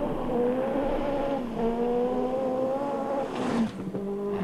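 A Group B rally car races in Finland, its engine roaring loud and close with sustained revving that shifts pitch, easing off and then climbing again as it passes.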